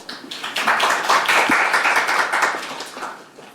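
Audience clapping at a policy forum on K-fashion globalization, a full burst of many hands clapping that swells and then fades away over a few seconds.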